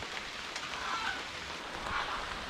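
Rain pours steadily through a Costa Rican rainforest, a dense continuous hiss of falling drops with no pauses, and faint bird calls or honks mixed in.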